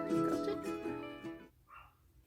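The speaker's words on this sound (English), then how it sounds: "Is there actually someone at the door, or are you barking at nothing again?" A dog barks at the door indoors, a few loud, close, harmonic barks packed into the first second and a half, then a fainter yip as it trails off.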